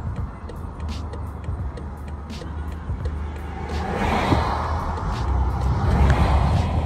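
Road traffic rumbles past while riding along in a car, a steady low drone of tyres and engines that swells louder over the last few seconds as vehicles go by close.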